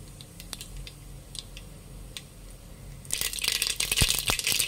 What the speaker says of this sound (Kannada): ಎಣ್ಣೆ ಕಾಯ್ದಿದೆ, ಸಾಸಿವೆ ಹಾಕ್ಕೊಳ್ಳಿ.